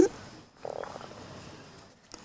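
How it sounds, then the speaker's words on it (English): A frog gives a brief, moderately loud croaking burst outdoors at a lawn bowls club, set against soft background ambience with a faint click near the end. "What's the name of the frog?"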